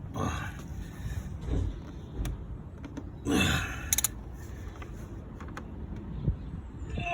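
Pliers grip and twist an over-tightened oil filter on a VW Golf MK6 1.4 TSI, giving close, strained creaks and metallic scraping, with a few sharp clicks along the way.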